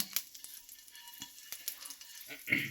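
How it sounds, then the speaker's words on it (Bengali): Whole spices (bay leaf, dried chilli, cinnamon, clove and cardamom) sizzle softly in hot oil for chicken kosha, a faint crackling hiss broken by light stirring clicks and a sharper spit near the end. "এবার আমরা জাস্ট ফোড়ন দেবো তেজপাতা দিয়ে ফোড়ন"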